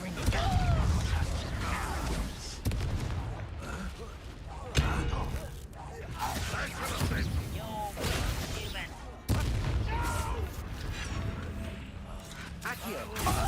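Confringo blasting spells in a Harry Potter video game, several sharp bursts and crashing impacts at irregular intervals amid busy combat noise, with voices speaking throughout.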